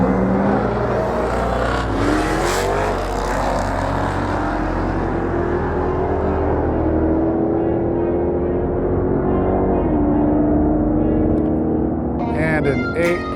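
Dodge Challenger and Ford Mustang launching side by side at a drag race, engines roaring and climbing through gear changes as they pull away and fade, with crowd noise and announcer talk over them.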